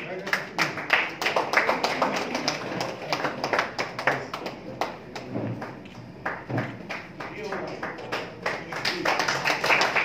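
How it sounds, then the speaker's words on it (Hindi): An audience at an evening social-service honours event at the Academy of Fine Arts claps in a steady, crowded rattle of sharp hand claps, loud and close, swelling and easing over several seconds. "जोरदार तालियां हो जाए"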